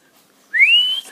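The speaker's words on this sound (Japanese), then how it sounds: "次は口笛もやってるしね" A person whistles one clear note that rises quickly and then holds steady for about half a second before stopping, close and alone against near silence.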